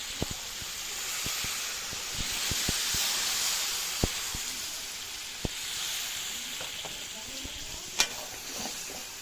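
Water is poured into goat mutton frying in a pan, village style, giving a hissing, steaming sizzle under sharp, irregular clacks of a spoon stirring against the pan, close and moderately loud.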